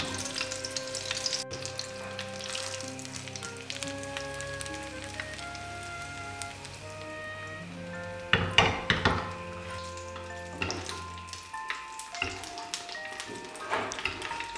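Duck breast sears skin-side down in a home frying pan, with a soft continuous sizzle under sustained tonal sounds and a few sharper clatters and bursts partway through.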